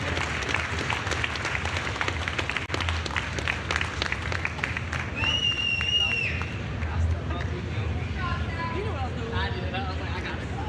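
A crowd at a strongman competition applauds and cheers for a competitor leaving the podium, a broad clapping wash mixed with babble and a nearby voice speaking over it.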